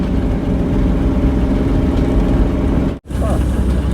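1962 Cadillac engine with a non-shifting Jetaway transmission running loud and close, a dense steady throaty drone broken by a brief cutout near the end.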